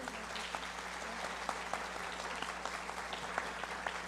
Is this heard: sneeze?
no